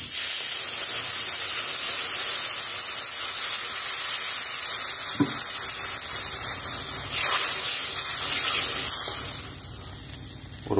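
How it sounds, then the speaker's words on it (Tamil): A glass of water poured into a hot pan of half-cooked tomatoes and vegetables for veg Maggi noodles, giving a loud, steady sizzling hiss that runs for several seconds before easing toward the end. "இப்போ நம்ம ஒரு கிளாஸ் தண்ணி ஊற்றிக்கலாம்"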